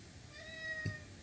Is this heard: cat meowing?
yes